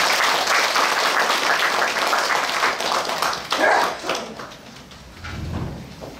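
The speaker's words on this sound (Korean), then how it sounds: "박수 한 번만 더 부탁드리겠습니다." Audience at a summer clarinet concert claps in a dense, steady burst that thins and fades toward the end.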